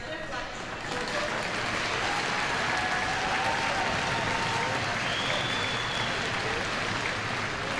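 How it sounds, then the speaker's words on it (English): An arena audience at a hockey game, Rock Ridge versus Gentry Academy, breaks into sustained applause and cheering that swells after a quiet start and holds steady, with faint whistles and crowd noise mixed in. "Let's give a round of applause in honor of our respective lecturers."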